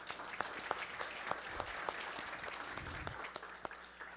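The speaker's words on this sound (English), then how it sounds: "let's have a round of applause for Richard." Audience applause at a technology conference, steady clapping from a seated crowd that continues throughout with no voices over it, fairly soft and even with a few sharper claps standing out.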